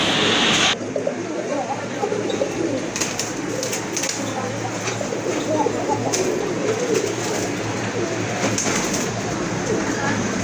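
Pigeons coo steadily in the background amid a busy, noisy pigeon market, a continuous murmur of low throaty calls.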